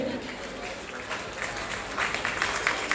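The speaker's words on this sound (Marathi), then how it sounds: "एकदा जोरदार टाळ्या झाल्या पाहिजे" An audience at a Marathi community award ceremony for meritorious students applauds, a faint, distant, diffuse patter of clapping that swells slightly toward the end, with a voice carrying underneath.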